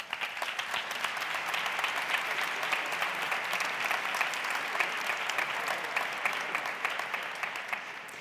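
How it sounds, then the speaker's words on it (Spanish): A large audience gives sustained, dense applause for a baroque orchestra at an architecture award ceremony, the clapping even and unbroken throughout. "Un aplauso para ellos, por favor."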